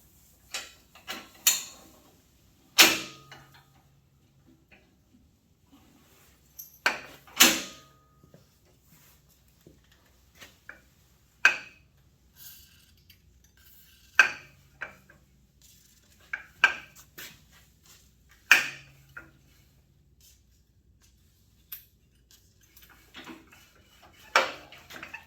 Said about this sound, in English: I want to spin that jack up around again to do it